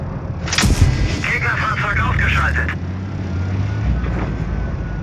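A tank cannon fires in a tank video game: one loud, sharp blast near the start, then a heavy rumbling tail. People talk over it throughout.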